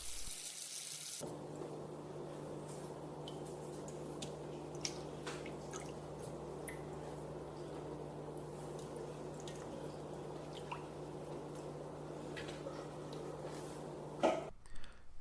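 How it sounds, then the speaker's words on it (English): Cold tap water runs steadily over salted mullet roe in a kitchen sink, rinsing off the salt. The close, continuous flow lasts throughout, with small drips and squishy handling near the end. "the salt needs to be rinsed off with cold water"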